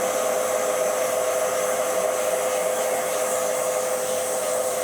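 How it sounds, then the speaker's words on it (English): Power sanding of a small turned wooden Christmas decoration, likely spinning on a lathe: a continuous, steady, airy whirring hiss at even loudness with no pauses, close up and alone with no talking. "Just going to get this sanded up now"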